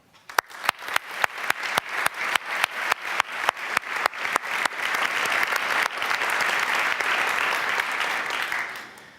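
An audience at an awards ceremony claps for an honoured organisation. The applause opens with a few distinct loud claps, then swells into steady dense clapping across the hall before tapering off at the end.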